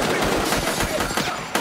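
Rapid gunfire in the Sub Rosa video game, a burst of close, loud shots in quick succession filling the moment with no talk over it.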